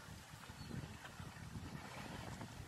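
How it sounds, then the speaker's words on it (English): Outdoors beside the Neptune's Staircase canal locks, breezy wind blows in a steady, faint rumbling gust across the microphone, with no voices. "It's quite breezy here today."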